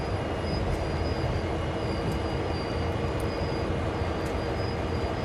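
Locomotive in the Train Sim World video game rolling to a halt, a dense, steady rumble of running gear and engine with faint high whines and a few short clicks, no voices.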